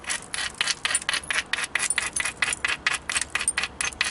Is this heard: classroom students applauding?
no